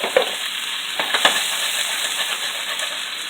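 Broccoli and onions stir-fry with shrimp in a hot pan, a loud, close, steady sizzle and hiss punctuated by a few sharp clicks and scrapes from the spatula.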